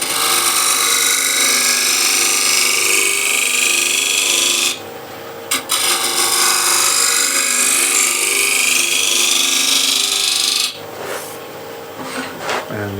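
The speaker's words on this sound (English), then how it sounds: "use a refiner, my signature scraper," A refiner scraper shapes a wooden bowl on the lathe, a loud, continuous rasping scrape that breaks off briefly twice, around the middle and near the end, then resumes, with no talking.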